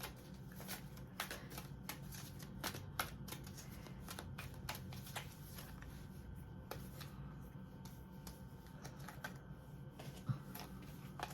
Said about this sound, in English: So let me just do a couple more shuffles on these cards.